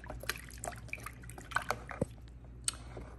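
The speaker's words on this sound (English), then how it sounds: "just stir it around until it's dissolved." A spoon stirs a mix of apple cider vinegar, water and silicone conditioner, giving soft liquid swishes and a few light clinks against the container, quiet and close.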